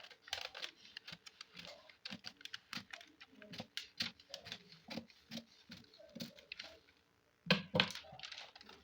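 Scissors cut out a half-scale paper bodice pattern in quick, close bursts of crisp snipping and rustling. A short pause is followed by a louder flurry of cuts.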